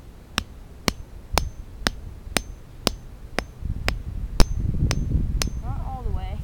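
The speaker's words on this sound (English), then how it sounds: "I use a hammer or a log, and I pound it in" A hammer pounds a bird trap stake into the ground with about eleven evenly spaced, sharp knocks, roughly two per second, close by over a low outdoor rumble; a bird chirps briefly at the end.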